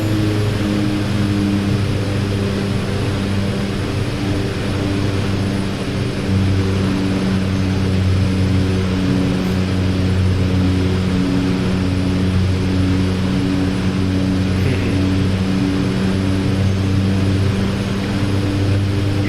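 Jet engine drone during a straight-in landing approach to runway 06 left at Andersen Field in DCS World, with F-16 and F/A-18 aircraft on the Marianas map: a steady, loud, continuous roar with layered low hums and no voices.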